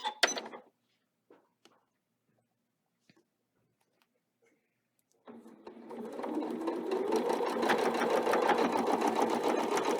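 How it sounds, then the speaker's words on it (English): A sewing machine stitches a quarter-inch seam along the edge of quilting pieces, starting after a few soft handling clicks and then running steadily and fast with a dense mechanical whir up close. "So we're going to do our 1/4 inch seam down the outside edge, aligning all of our pieces."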